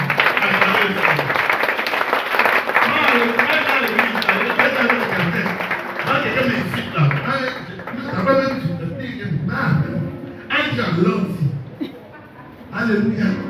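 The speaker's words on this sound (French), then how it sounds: "acclamez le Seigneur." A church congregation applauds together, a dense wash of clapping mixed with cheering voices and shouts, loud throughout and rising and falling in waves.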